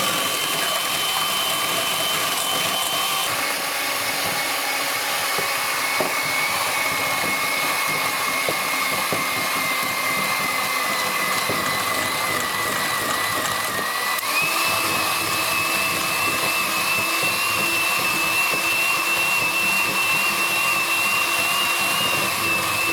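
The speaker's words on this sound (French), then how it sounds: "je vais battre mon blanc d'œuf en neige et vais rajouter au fur et à mesure le sucre" Electric mixer whipping egg whites with icing sugar for royal icing for a Christmas cake: a steady, continuous whirring motor drone close by, with a slight shift in pitch partway through and no talking.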